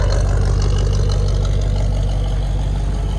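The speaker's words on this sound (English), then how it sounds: "So now all the exhaust and all the sound is out the back." A truck engine idles steadily and loudly up close, a deep continuous rumble with a low throbbing pulse and no voices, its exhaust routed out a new rear tailpipe.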